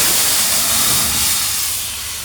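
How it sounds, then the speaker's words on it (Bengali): Tamarind pulp hits a hot pan of frying dried chillies for a sweet-sour Bengali pickle, giving a loud, steady steam hiss that fades slightly toward the end. "আমি এখন তেঁতুলের টক দিয়ে দেব।"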